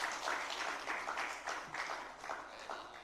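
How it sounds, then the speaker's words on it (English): An audience at a fireside chat on democracy breaks into applause, a dense wash of hand claps rising and falling in waves for about three seconds, moderately loud and with no speech over it. "A round of applause for him again."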